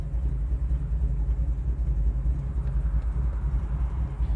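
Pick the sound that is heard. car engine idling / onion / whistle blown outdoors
car engine idling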